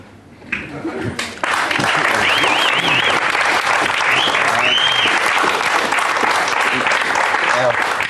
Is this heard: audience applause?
yes